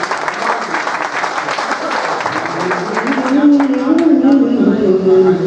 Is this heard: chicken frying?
no